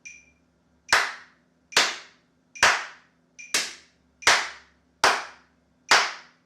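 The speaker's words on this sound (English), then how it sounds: "Once you can do 1 clap per click, then try 2 claps." Seven sharp hand claps land at a steady, even pulse, each crisp and close with a quick decaying tail, alongside faint high metronome clicks in a quiet room with a low hum underneath.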